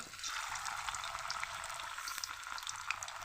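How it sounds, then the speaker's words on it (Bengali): Potato and soybean fulori frying in hot oil, a steady, fine crackling sizzle with small pops, continuous and close, no talking. "এখন আমি এই তেলের ভিতরে ফুলরিগুলো দিয়ে দেব"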